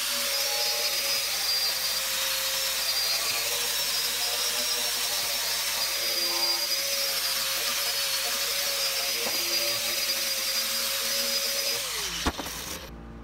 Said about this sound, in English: grab my angle grinder. I'm gonna put on the cup wheel, which is my preferred tool for this job